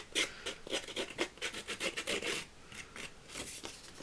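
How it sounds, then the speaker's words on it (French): Scissor blades scuff and scrape repeatedly across a paper card being made for Father's Day, a close, rhythmic run of rough rasping strokes, steady at first and then more irregular. "Je vais venir abîmer un peu avec le ciseau ou ce que vous avez."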